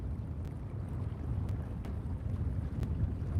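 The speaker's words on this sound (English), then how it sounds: "You guys hear the wind, or is this windsock keeping it down because it's very windy?" Steady low wind rumble buffeting a windsock-covered microphone outdoors at Presque Isle harbor lighthouse on Lake Superior, with a few faint clicks over the constant blustery noise.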